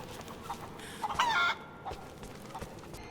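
Chickens cluck in the video game Rise of the Tomb Raider, with one loud squawking cry standing out over soft clucks and a faint ambient background.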